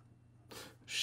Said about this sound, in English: here we go with a writing sample for the Woodshed. Pen Company,